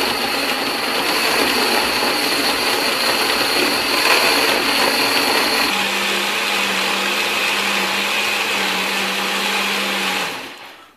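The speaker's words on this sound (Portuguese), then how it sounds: "Batemos aí por cerca de 1 minuto, mais ou menos, no liquidificador." A blender whirs loudly and continuously for about ten seconds blending a homemade plant fertilizer, shifting pitch midway, then winds down and stops.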